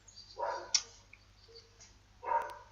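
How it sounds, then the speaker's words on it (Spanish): A dog barks in the background in two separate bursts, one early and one near the end, moderately faint, with a quiet pause between them. "el llamado mejor amigo del hombre, que nos está poniendo una oportuna música ambiental con sus ladridos."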